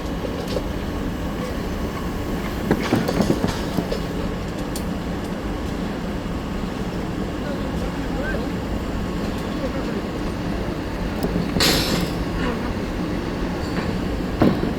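A rebar bending machine works steel rebar on a construction site, a continuous loud rumbling drone with scattered metallic clanks and a sharp burst near the end, while people talk in the background.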